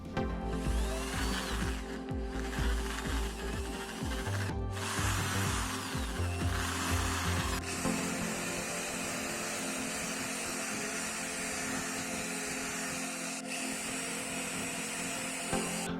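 Plastic platform soles for homemade Predator costume feet being drilled with a power drill, a steady whirring drone with ratcheting mechanical rattles, close and loud, with no voices.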